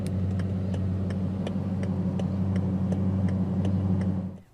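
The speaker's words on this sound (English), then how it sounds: "So let's go ahead and flip on the automatic LED headlamps and the hazards." Hazard lights ticking inside a 2017 Bugatti Chiron, a steady even row of soft clicks over a loud, constant low engine hum that fades at the end.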